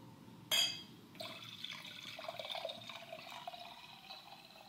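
Liquid pours into a glass steadily with a rising, filling tone, starting with a brief splashy burst and continuing for several seconds at moderate loudness.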